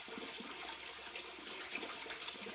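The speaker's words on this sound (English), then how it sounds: "I could just fill it with water, and the water is going to level" Water pours into a gravel-filled greenhouse planter, making a faint, steady hissing trickle with no voices.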